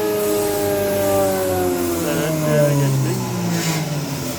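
A Pro 623 profile woodworking machine with six motors brakes to a stop over about eight seconds, its steady loud whine sliding downward in pitch as the motors slow.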